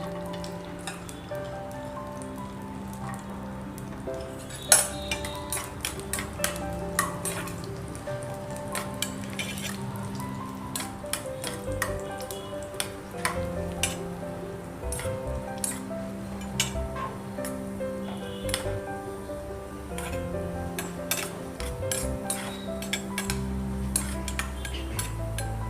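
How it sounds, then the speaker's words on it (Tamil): Cashew nuts frying in ghee in a pan, a steady close sizzle broken by frequent metallic clinks and scrapes from stirring. "முந்திரி பருப்பை நெய்யில் வறுக்கணும்."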